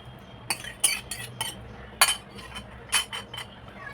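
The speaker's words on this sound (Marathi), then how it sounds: "ते दही आता आपण फेटून घेऊया म्हणजे याला टेक्स्चर चांगलं येईल." Yogurt is whisked in a metal strainer for dahi vada, giving quick irregular metallic clinks and taps in short bursts over a quiet background, close by.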